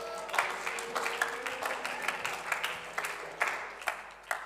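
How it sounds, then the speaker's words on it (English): A church congregation at a Sunday commissioning service applauds a team, giving a sustained round of distinct handclaps from a room of people, moderately loud and steady throughout. "One last round of applause as they jump off."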